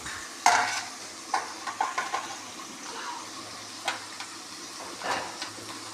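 Curry leaves fry in oil with onions and green chillies for a fish curry, a faint, quiet sizzle under a series of spoon scrapes and knocks against the pan.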